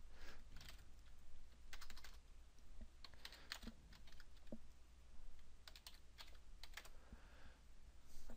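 Keystrokes on a computer keyboard while working in the Java jshell console of JDK 9, quiet and close, coming in short irregular bursts of clicks with brief pauses between them, no talking.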